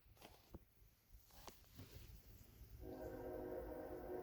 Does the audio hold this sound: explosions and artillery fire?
no